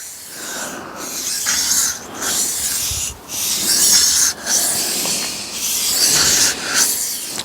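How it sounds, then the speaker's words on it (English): A knife is sharpened on a Tormek T8 wet stone grinder, producing a steady, close, gritty rasping hiss that dips briefly several times as pressure eases, with no speech. "I'm sharpening, going back, I'm just easing off, and you might hear a slight difference"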